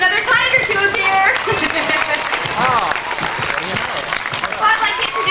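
Crowd applause and cheering from an audience at a live tiger show at Six Flags Great Adventure, steady and loud throughout, with voices mixed in.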